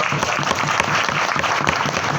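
Audience applause fills a hotel conference hall at a business seminar: dense, steady clapping from many hands, loud and continuous for about two seconds with no voices over it.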